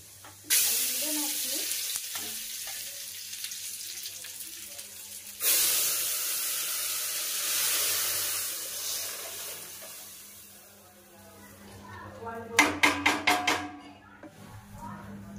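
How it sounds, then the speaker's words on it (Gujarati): Dal tempered with cumin and mustard seeds sizzles sharply in hot oil, with two loud hissing bursts and a crackling, popping stretch near the end, while a voice talks quietly underneath. "તો આપણે દાળ વઘારી નાખી છે."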